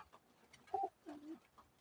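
Pigeons coo softly in a backyard loft, two low throaty calls standing faintly above a quiet background with no talk.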